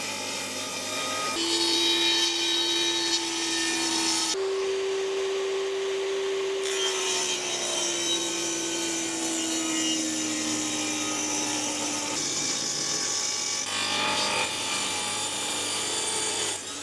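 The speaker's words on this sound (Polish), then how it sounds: "Mam rozłożoną już piłę stołową, więc od razu sobie ciachniemy na 4 cm ze dwie kantówki" A table saw rips wooden battens to a 4 cm width, the blade whining steadily as it feeds through each piece with several distinct cuts and brief gaps between them, loud and close with no talking.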